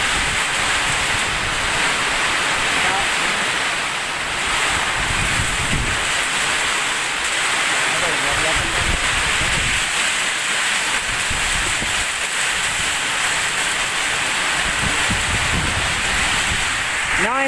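Heavy rain and strong wind in a storm, a loud continuous broadband roar with gusty surges, with a voice talking faintly at times.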